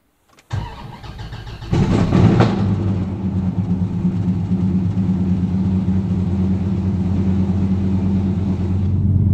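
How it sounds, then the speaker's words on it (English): A Gen V Dodge Viper fitted with a new polyurethane transmission mount and cross member cranks and fires, a brief revving surge settling into a loud, steady, deep idle close by. "Right now I'm going to do my first test drive since installing the new polyurethane transmission mount and cross member."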